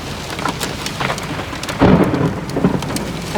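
Thunder from close lightning in a supercell storm at Underwood, Queensland, rumbling over steady rain and hail on the ground, with a louder, heavier crack and roll swelling in the second half.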